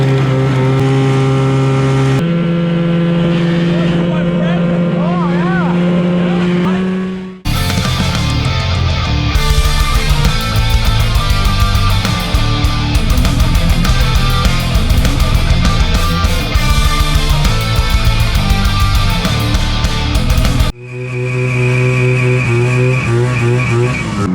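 An Arctic Cat snowmobile engine revving loud and close after a cold start, with sustained high roaring revs in a long middle burst between steadier running sections.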